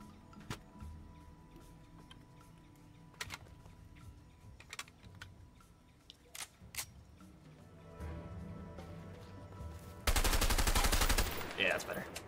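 Bursts of SMG gunfire in the video game A Way Out, scattered sharp shots early on, then a sustained loud automatic burst near the end, with faint voices in the background.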